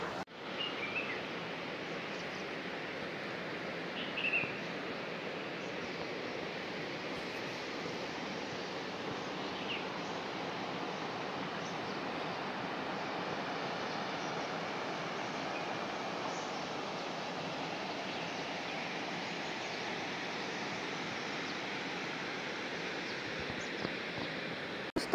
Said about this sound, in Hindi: आप तब तक एंजॉय कीजिए माँ गंगा नदी का शोर और हमारे यहाँ की प्यारी प्यारी चिड़ियों की